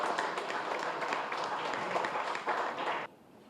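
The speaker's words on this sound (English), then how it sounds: "Give a big round of applause to them." A quiz-show audience gives a steady round of applause, dense overlapping hand claps sustained at moderate loudness before stopping abruptly, with faint voices mixed in.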